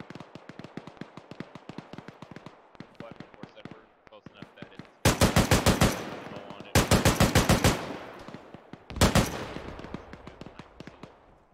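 Gunfire in the military game ArmA 3, with rapid automatic bursts and scattered shots, then three loud, close sustained bursts of machine-gun fire.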